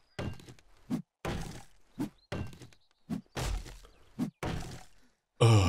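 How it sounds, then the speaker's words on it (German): Trees being chopped down in the zombie survival game 7 Days to Die: a series of about nine heavy, dull wooden thunks in an uneven rhythm, close and loud, with no voices. "Wir sind gerade am aggressiv Bäume fällen und aggressiv Spikes platzieren"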